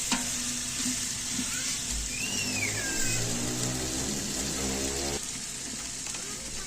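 About ten tomatoes sizzle loudly in mutton biryani masala as the mixture is stirred, a continuous close frying hiss with a steady low hum running beneath it.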